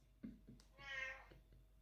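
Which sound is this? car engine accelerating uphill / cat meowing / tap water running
cat meowing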